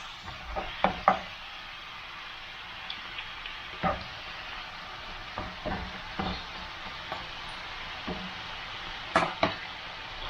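A chicken and spinach stir-fry with feta sizzles in a pan, a steady frying hiss broken by scattered sharp knocks and scrapes from a stirring utensil.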